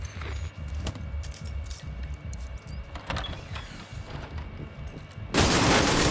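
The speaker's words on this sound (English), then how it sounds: "Stockpile. I'm gonna detonate it." A detonated stockpile in The Division 2 erupts as a sudden loud broadband blast near the end, following several seconds of scattered gunfire, clanks and mechanical game noise.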